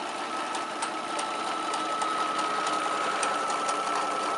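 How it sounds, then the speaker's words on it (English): A sewing machine runs a dense satin stitch along the edge of a fabric circle appliquéd onto a square quilt block, giving a steady, fast, even whirring hum with faint regular ticks, close and without talk. "I'll just start, and you'll see it doing the satin stitch."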